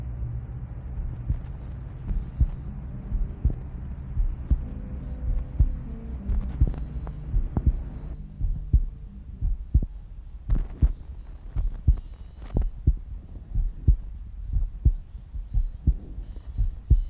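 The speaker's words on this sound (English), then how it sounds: "we hear something that resembles a heartbeat." Low, steady heartbeat-like throbbing closes an album, repeated thumps pulsing over a dark hum with scattered sharper knocks, no voices.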